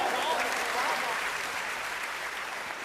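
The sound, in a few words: audience applause at poetry recital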